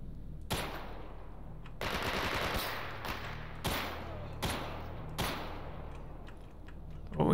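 Bursts of automatic gunfire in the video game STALKER, several loud, sharp volleys spaced through the stretch, with rattling echoes between the shots.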